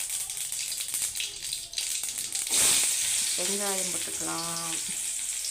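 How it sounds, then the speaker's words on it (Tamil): Mustard seeds splutter and sizzle loudly in hot oil in a pan, a dense continuous crackle heard up close while someone speaks over it during a home preparation of banana flower stir-fry. "எண்ணெய் காஞ்சிருச்சு. கடுகு பொரிஞ்சதும்"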